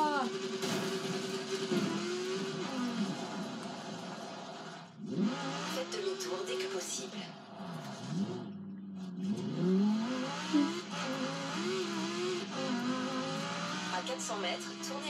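Car engines roar and rev through a Forza Horizon dirt championship race, a steady loud drone with rising and falling pitch and brief dips, while someone talks over the game sounds.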